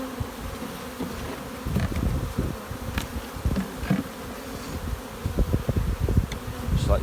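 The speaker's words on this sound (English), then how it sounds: "about 2 frames of bees in there" Honey bees in a small split hive box drone with a continuous, close buzz, while the handling of the hive frames adds intermittent low thumps and knocks.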